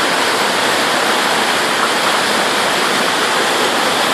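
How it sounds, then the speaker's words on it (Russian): A powerful stream of water rushes through a gorge near a waterfall close to Piha Beach, New Zealand, a loud, dense, unbroken roar with no voices. "Поток, конечно, очень мощный."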